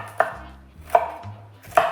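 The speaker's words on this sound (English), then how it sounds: "So easy to cut a head of broccoli." A knife cuts through a head of broccoli on a board with three crisp, evenly spaced chops, each one close and distinct, with quiet pauses between them.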